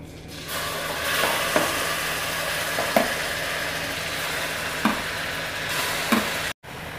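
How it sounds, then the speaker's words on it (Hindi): Grated bottle gourd frying in ghee with cardamom powder over medium heat, a steady broad sizzle throughout, with periodic scraping clicks of the stirring spoon against the pan, close and continuous, no voices. "मीडियम आंच पर लौकी को बराबर चलाते हुए घी में भून लेते हैं।"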